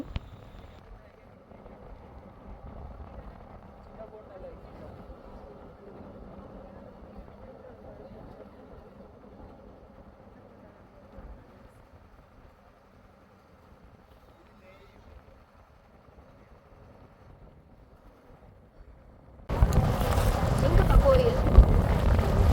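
A boat engine drones low and steady on the water for most of the stretch while approaching the Nagapooshani Amman temple on Nainativu island, Jaffna, then a loud rush of wind and engine noise surges near the end.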